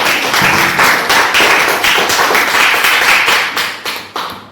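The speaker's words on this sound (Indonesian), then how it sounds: "Beri tepuk tangan untuk Anda" A room full of people clapping together for a student during a workshop-skills class session, loud, close and dense with rhythmic pulses, tapering off at the end.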